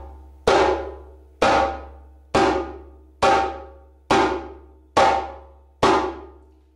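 Seven evenly spaced djembe slap strokes, fingertips snapping against the drum head, each a sharp, loud, cracking pop with a quick decay, played alone and close.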